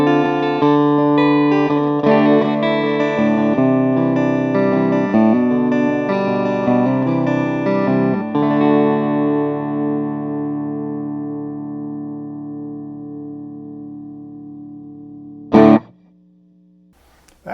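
Fender Stratocaster through a Bad Cat tube amp with the master volume raised so the power tubes break up: gritty driven chords strummed for several seconds, then a long ringing decay, a sharp click and a brief buzz near the end.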